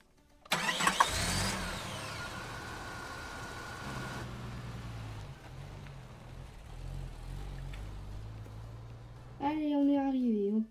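A car engine cranks and starts with a sharp burst, then idles and revs steadily at moderate volume as a sound effect for a Playmobil toy car story, with a voice speaking over the end.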